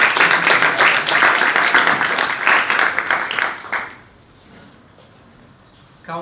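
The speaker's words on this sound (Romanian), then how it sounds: "să-l aplaudăm pe Andrei" An audience in a pub talk session claps warmly for a speaker, dense and close for about four seconds before dying away to quiet room tone.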